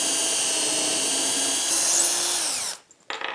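A power drill whines steadily as it bores 3mm holes in a small piece of wood through a UJK Parf guide, its pitch sagging slightly under load before it cuts off abruptly, followed by a brief quieter burst.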